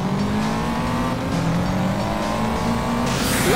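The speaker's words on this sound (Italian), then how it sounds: "Occhio qua che c'è da inchiodare." A race car in the Juiced 2: Hot Import Nights video game brakes hard, its engine droning steadily while tires squeal and skid; the sound is loud and continuous, rising in the final moment.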